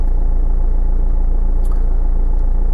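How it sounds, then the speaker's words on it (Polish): A car engine idles steadily with a heater running to warm up, a constant low rumble close by and alone for the whole stretch. "Silnik pracuje, temperatura wzrasta."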